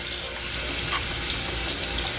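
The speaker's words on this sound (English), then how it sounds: "You want to go ahead and take the filter and rinse it off" Running tap water splashes over a turtle tank filter as it is rinsed under a sink faucet, a loud continuous hissing stream with brief splattering changes.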